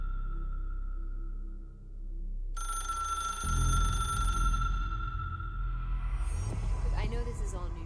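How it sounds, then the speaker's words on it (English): A telephone rings in the video game Control, a steady electronic tone with low humming and throbbing game sounds and some voice-like noise toward the end. "that noise you heard in the background was the phone ringing the entire time"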